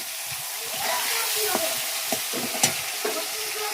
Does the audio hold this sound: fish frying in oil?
yes